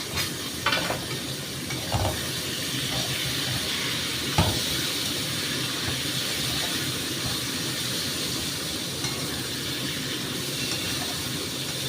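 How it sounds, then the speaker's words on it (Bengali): Onions frying in oil for a spicy crab curry sizzle and hiss steadily up close, with a few stirring knocks and scrapes along the way. "পেঁয়াজ দিলাম দিয়ে এবার একটু ভাজবো"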